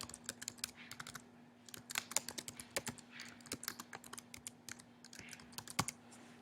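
Someone types text on a computer keyboard in quick irregular bursts of soft clicks, close and quiet over a low steady hum, with no talking.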